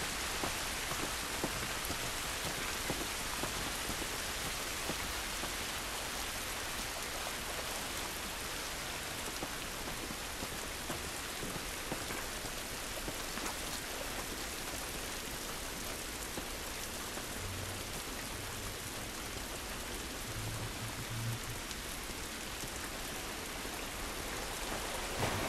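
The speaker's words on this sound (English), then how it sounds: "This rain ain't gonna do us any good." Heavy rain pours outdoors in The Last of Us Part 2, a dense, steady hiss of drops striking surfaces that continues unbroken throughout, loud and close with no voices.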